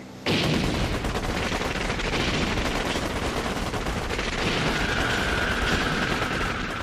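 Sustained gunfire from military police weapons in an animated scene, a dense, loud continuous volley of rapid shots that starts abruptly and rattles on without pause, with no talking.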